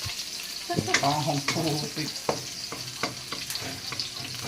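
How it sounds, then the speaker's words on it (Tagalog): Onions sauté in hot cooking oil, giving a moderate sizzle broken by clattering stirring strokes, with a brief voice-like murmur near the start. "kapag mainit na yung mantika, pwede na ilagay yung sibuyas at gigisayin natin"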